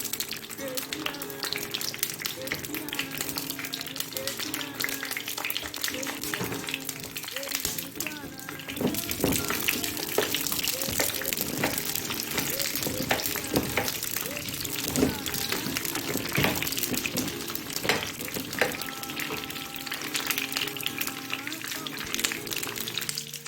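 Brinjal pieces fry in hot oil for a sesame and rosemary dish, with a steady dense sizzle and bubbling that runs throughout, swelling louder midway, with occasional stirring clatter.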